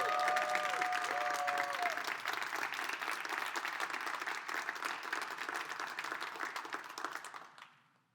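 Church congregation applauding during a sermon, a dense, steady wash of many hands clapping with a brief tone at the start, fading out near the end.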